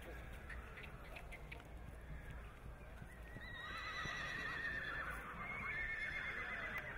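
A horse trots at a chaser sale, with soft hoofbeats and a whinny in a noisy ring, while voices murmur in the background.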